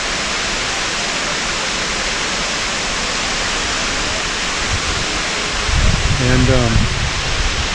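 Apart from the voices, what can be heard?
Brekkefossen waterfall in Flåm, Norway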